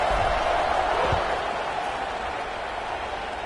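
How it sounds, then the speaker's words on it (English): A football stadium crowd keeps up a broad, steady buzz after a score, with faint scattered applause and indistinct voices running throughout. "this crowd is buzzing after that last score"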